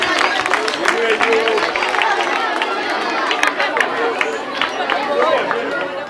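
Audience applause at a Back to School community campaign event in Tanzania: a steady, dense wash of clapping from a crowd lasting several seconds, with background chatter mixed in.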